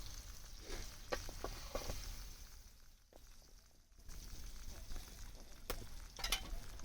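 Fish frying in a pan over an outdoor wood-fired stove in a village setting gives a soft, continuous sizzle with occasional scraping stir sounds. The sound dips briefly to near quiet, then resumes with a few sharp clatters.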